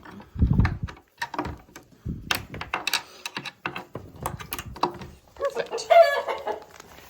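Chickens cluck and murmur close by in short bursts indoors during evening chores, mixed with scattered clicks and small knocks.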